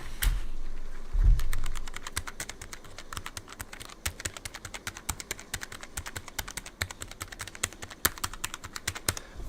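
Keys on a Logitech G913 TKL low-profile keyboard with red switches are typed quickly and evenly, a close, soft-edged flurry of keystrokes after a couple of brief thumps at the start, with no talking.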